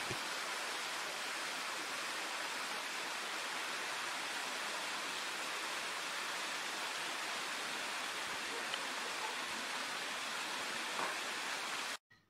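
Steady broadband rush of a waterfall in a village in Shangla, Pakistan, loud and constant for over ten seconds, with no voices, cutting off abruptly at the end.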